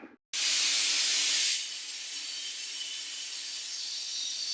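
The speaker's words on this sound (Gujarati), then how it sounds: "સીટી વાગે છે અહીંયા. મસ્ત મજાની વઘારેલી ખીચડી મૂકી છે." A stovetop pressure cooker cooking tempered khichdi with tomato lets off steam in a loud, close, broadband hiss for about a second, then settles into a softer steady hiss that continues to the end.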